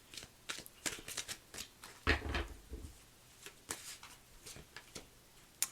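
Tarot cards shuffled by hand during a reading and a card drawn, soft papery riffles and taps in quick bursts, faint and close with no talking.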